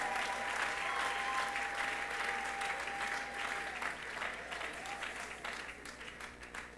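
A church congregation applauds in dense, steady clapping that fills the space and runs the whole time, easing off slightly toward the end.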